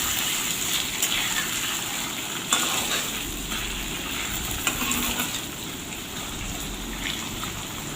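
Paneer pieces fry in a pan at home, a soft, steady hiss and crackle of hot oil running evenly throughout with a few faint pops. No one talks.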